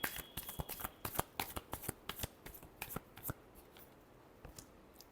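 Tarot cards are shuffled by hand, a quick series of crisp riffling snaps and slaps for about three seconds, then a few softer taps, close and quiet with no talk.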